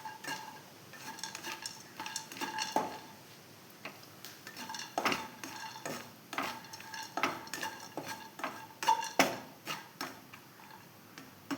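Cashews and raisins frying in ghee in a pan, heard as a steady run of clinks and scrapes from a spoon stirring against the metal pan, fairly close, with no talking.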